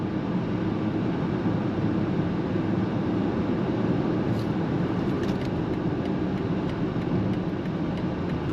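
A 2025 BMW X7 full-size luxury SUV accelerates on throttle, heard from inside as a smooth, steady low engine and road drone with no sharp peaks, continuous for several seconds.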